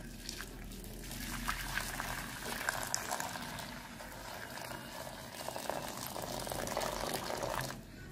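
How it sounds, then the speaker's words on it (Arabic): Boiling water being poured from a kettle over dried coriander, bay leaves and green tea leaves in a cup, a soft continuous liquid splash and trickle, fairly quiet and close. "هننزل عليهم بقى دلوقتي بكوبايتين ميه مغليه"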